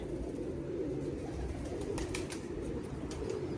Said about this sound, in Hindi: ये इस कबूतर की नोट है